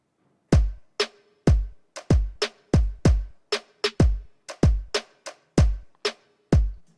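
A programmed electronic drum beat in Ableton without hi-hats: deep booming kicks alternating with sharper snare-like hits in a steady loop, punchy and dry with gaps of silence between hits, no voice.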